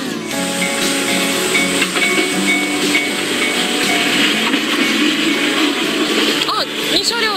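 A two-car Noto Railway train rumbles and hisses steadily into a station in Nanao, Ishikawa, with people talking over the continuous mechanical noise.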